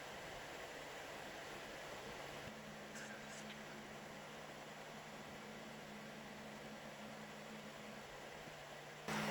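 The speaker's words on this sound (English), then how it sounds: "this 3D printer is really noisy, but it is right now doing a really good job" A Tronxy XY2 Pro 3D printer hums and whirs steadily with a fan-like drone, a low tonal motor whine appearing partway through.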